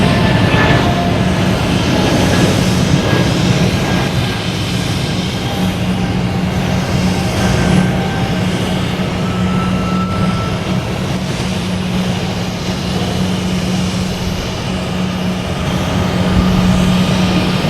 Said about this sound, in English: Here we have JetBlue and A220 heading to